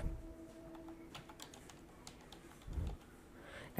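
Someone types on a computer keyboard into a search box, producing a few quiet, close key clicks spread across a few seconds, ending in a louder knock.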